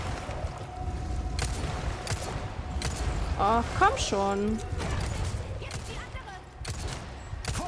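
Scattered gunshots in Resident Evil 4 Remake pop in irregular bursts amid steady background noise, while a person speaks briefly in German over the action.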